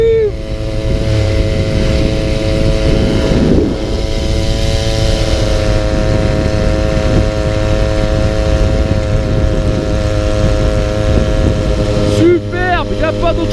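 A Tomos moped engine runs steadily with a buzzing, humming drone that keeps a constant pitch for most of the stretch, loud and close, while people talk over it and chirping sounds come in near the end.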